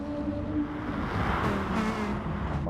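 A Ferrari race car in Gran Turismo pulls onto pit road at Dragon Trail, engine droning steadily with a low hum, moderate level and alone without talk.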